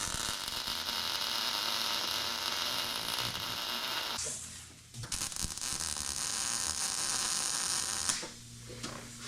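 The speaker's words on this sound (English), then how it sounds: "Let me weld this real quick." Welding in a shop: a steady, close crackling buzz in two long runs, cut by a brief pause, with no talking.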